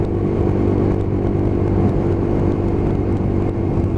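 Lexmoto LXR SE 125cc motorcycle cruising on the road, a steady low engine drone with wind rumble that stays loud and constant throughout, with no talk.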